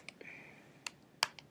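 Quiet typing on a computer keyboard while coding, a handful of soft, scattered key clicks with one louder tap, close by and without talk.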